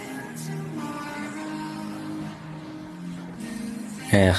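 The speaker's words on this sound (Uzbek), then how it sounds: "Lekin Dacia'da oldima chekka ham haydasam, orqama chekka ham haydasam toqqa chiqolmadi." Dacia car engine in PUBG Mobile straining to drive up a mountain, a steady droning hum that holds throughout, rising into a louder burst near the end, with speech over it.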